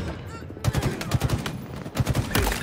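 Rapid video game gunshots, a quick stuttering burst of automatic fire in short clusters, close and loud, with a voice faintly under the shooting.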